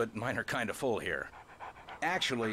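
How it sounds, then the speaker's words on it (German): A dog pants in Alan Wake Remastered, quick rhythmic breaths and a soft whimper heard close while someone talks over it. "Das ist ein Hund."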